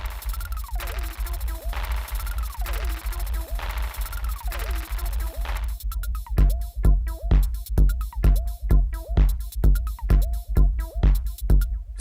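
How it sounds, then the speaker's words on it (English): A Korg Volca Beats drum machine plays a steady, loud looping beat of punchy kicks and snappy hits, with a sparser patterned section giving way to a denser, driving groove. "In this video, we are going to take a look at the Korg Volca Beats and see what we can get out of the"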